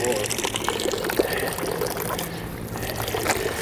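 A public drinking fountain on a city street in Italy runs water in a steady close pour and splash, with voices talking over the flow.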